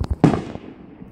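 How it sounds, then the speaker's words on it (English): Fourth of July fireworks heard from a porch surrounded by big trees: a couple of soft pops, then a single sharp, loud burst that trails off into a long, fading rumble. "Lots of fireworks all around the country."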